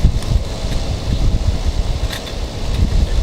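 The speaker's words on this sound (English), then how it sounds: "it's pretty windy, so it's flying away" Steady gusty wind buffets the microphone with a low rumbling roar, continuous and fairly loud throughout.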